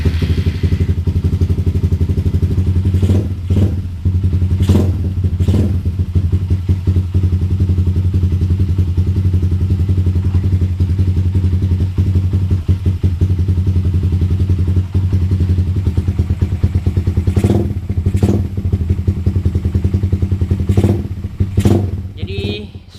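A motorcycle engine fitted with a PE28 carburetor runs loud and close with a steady, thumping idle throughout, punctuated by occasional sharp clicks and clatter.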